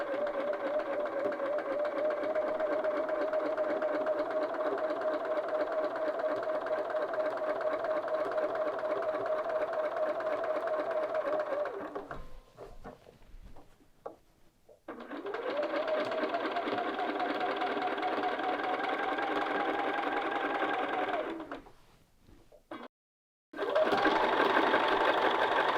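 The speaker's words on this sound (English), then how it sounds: "So just start stitching across." A sewing machine stitches a line across fabric. Two long runs of steady, rattling motor hum are split by brief stops and handling noise, and a third run starts at the end.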